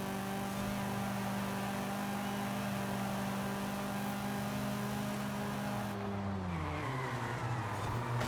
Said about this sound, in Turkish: araba kayıyor dönmüyor